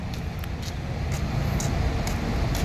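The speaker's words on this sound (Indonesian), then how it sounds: "Nah, ini bus Mior ya." A Mior Suites Combi bus passes on a road amid steady low traffic rumble, with faint brief hissy bursts, at moderate distance and without speech.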